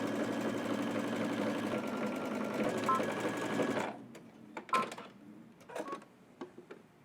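A home sewing machine runs steadily while stitching a garment side seam and under sleeve, a fast continuous whirring for about four seconds, then stops, leaving scattered clicks and handling sounds.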